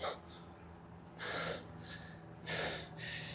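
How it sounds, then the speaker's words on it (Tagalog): Heavy breathing close to the mic from a cyclist riding uphill, a few loud gasping breaths in and out at an uneven pace, with no talking. "Hingal na guys."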